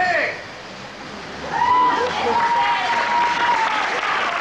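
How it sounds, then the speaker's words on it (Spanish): A crowd bursts into applause at a talk by a doctor in Montevideo, clapping building and holding steady, with voices mixed in. "la multitud que estalló en aplausos"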